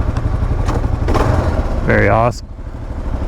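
A Harley-Davidson Pan America motorcycle engine idles nearby with a steady, loud rumble. Someone speaks briefly over it.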